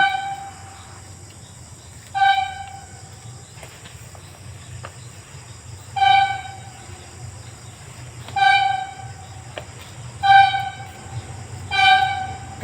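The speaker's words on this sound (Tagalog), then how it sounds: "Dalawang beses dumadaan ang tren, isa sa umaga at isa sa gabi." A passing train's horn sounds in repeated blasts over a steady low rumble, with insects chirping faintly in the background.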